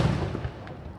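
Fireworks at a Fourth of July show in Walpole, Massachusetts, heard as a muffled, rumbling boom that rolls and fades over about a second, with a faint crackle trailing behind.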